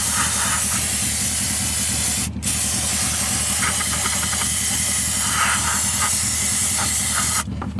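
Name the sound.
spraying air intake cleaner on a Nissan Maxima throttle body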